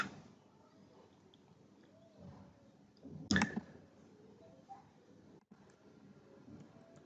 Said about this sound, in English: I click on save.